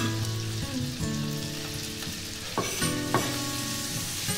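Shrimp fry in hot butter in a pan with a loud, continuous sizzle and crackle, broken by a few sharper bursts as the food is stirred.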